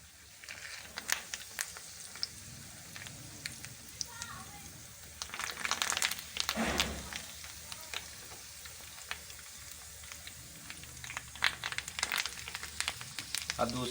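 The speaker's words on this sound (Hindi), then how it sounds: "अब पैन में हमने ऑयल डालकर इसको गर्म कर लिया है, इसमें डाल लेंगे इसको फ्राई करने के लिए स्नैक्स को।" Snacks frying in hot oil in a pan for an evening tea-time recipe, a steady crackling sizzle with scattered sharp pops and a louder burst midway as pieces are turned, close by.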